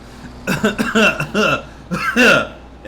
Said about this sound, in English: Okay, stop coughing.